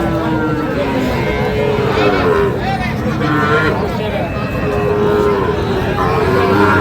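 Sahiwal bull calves lowing at a busy rural cattle market, several drawn-out moos rising and falling close by over constant crowd babble and people talking.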